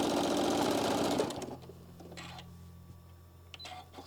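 Sewing machine stitching across flat fabric with back tacking, a loud, close, rapid whirring run that stops after about a second and a half, followed by a low motor hum and a few faint clicks of fabric handling.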